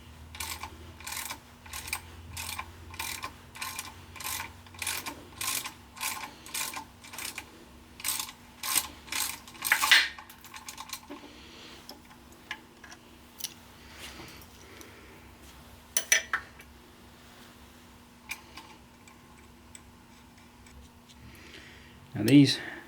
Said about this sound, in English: let me try my ratchet. So now I'm going to have a ratchet on the inside and a ratchet on the outside